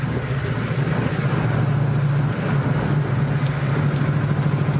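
A car engine idling with a burble tune, a steady low rumble with uneven lumpy pulsing, close and continuous with no talking.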